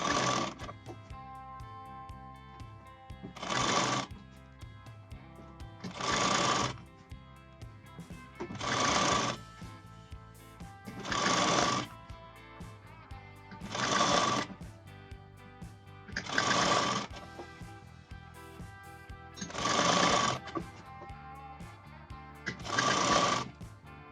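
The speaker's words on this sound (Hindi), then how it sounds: "पट्टी को भी हम राइट साइड में फोल्ड करके इस प्रकार इसकी स्टिचिंग कर देंगे" A sewing machine stitches a right-side folded strip onto a frock bodice in regular bursts of whirring, nine runs separated by short pauses, close and steady without talk.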